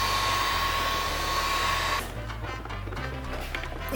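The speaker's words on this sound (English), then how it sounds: "I will use a heat gun to just heat up this surrounding piece to just loosen it up" A heat gun blows a loud, steady roar while heating a headlight housing on an S14 Zenki to loosen it, then drops to a quieter whir halfway through, with no talking.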